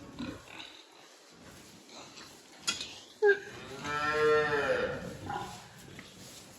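A huge pig on a farm in the countryside, estimated at about 400 kilos, gives a deep, drawn-out grunting call at close range, with quieter rustling and farm noise before and after.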